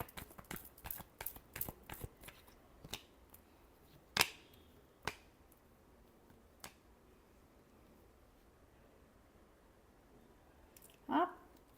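Tarot cards being shuffled in a quick burst of crisp riffles and snaps at the start, followed by a few sparse isolated taps and a final flutter, fairly close and quiet with no voices.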